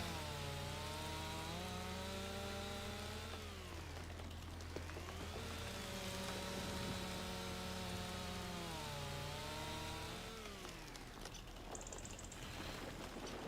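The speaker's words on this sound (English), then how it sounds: "Just chop these 2 trees down willy-nilly with our chainsaw." A chainsaw cuts down trees in the Farming Simulator 25 video game, its engine droning loudly and continuously while rising and falling in pitch through three long cutting passes.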